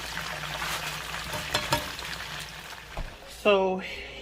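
Chicken tenders sizzle and crackle in hot oil in a frying pan, close up, with a few utensil clinks and a brief voice near the end.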